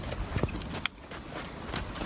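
Horse hooves pacing on a lunge line in an arena, a few soft, uneven thuds close by in a short burst.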